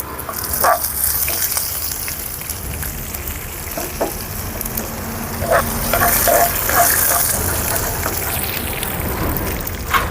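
Chana dal, urad dal and mustard seeds sizzling in hot oil, a continuous crackling hiss with scattered sharp pops from the seeds, close and fairly loud, swelling slightly toward the end.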